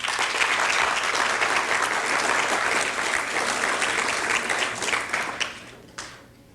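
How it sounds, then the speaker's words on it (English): A college audience at Bethune-Cookman College gives sustained applause, dense clapping that holds steady before thinning and fading out near the end. "you must give your school another round of applause"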